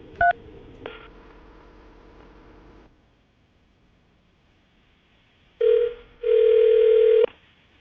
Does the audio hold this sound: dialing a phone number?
yes